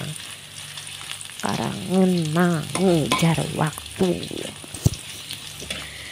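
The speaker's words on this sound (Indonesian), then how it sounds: "Di sini saya menumisnya dengan api kecil" Shallots, garlic, onion and chili sautéing over low heat in a pan, giving a steady soft sizzle with stirring beneath a person talking.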